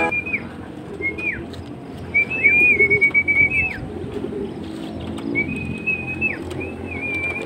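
A racing pigeon at a loft during a fun race coos close by in several short rolling phrases, with a faint flutter and light background noise between calls.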